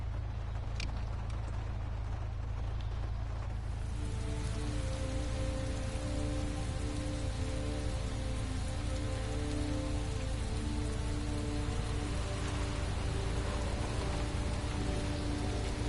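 Heavy rain pours steadily in the video game Heavy Rain, a loud continuous wash of drops on surfaces, with a low engine-like hum and a tonal drone rising partway through.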